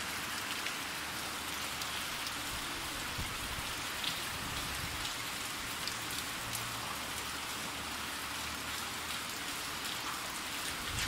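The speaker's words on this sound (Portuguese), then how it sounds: "Escuta só o barulho da chuva." Steady rain pours in Ubajara on the Serra da Ibiapaba in Ceará, falling through dark, misty weather as a continuous close hiss with no voices.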